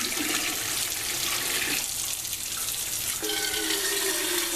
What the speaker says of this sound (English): So now I just want to add some room temperature water.